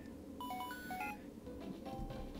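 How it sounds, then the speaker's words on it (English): A phone rings in Pokémon Black with a short run of quick electronic beeps and chirpy tones, moderately loud, then fading into quieter game background. "got a phone call."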